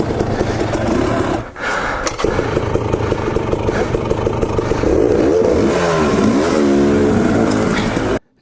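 A KTM 250 XC dirt bike engine revs up close while climbing a rocky trail obstacle, its revs rising and falling almost continuously, with a brief dip near the start and a sweeping surge toward the end.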